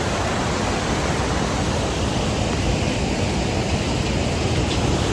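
Steady, dense roar of rushing water at Garandi Ella waterfall near Diyathalawa, Sri Lanka, a broad continuous wash that holds constant and loud throughout with no voices.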